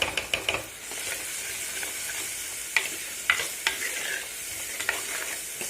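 Onions with a little salt sautéing in a pan for a fish curry, giving a steady sizzle broken by occasional sharp stirring clacks, with no talking.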